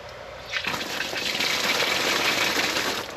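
A garden hydrant water line is flushed: after a brief quiet moment, a strong steady gush of water starts and keeps pouring at a constant level, close by, with no voices.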